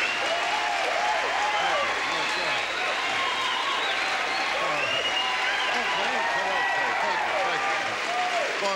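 A comedy-club audience gives Rodney Dangerfield's 1982 stand-up a dense, continuous round of applause and cheering that stays loud and even throughout, with crowd voices mixed into the clapping.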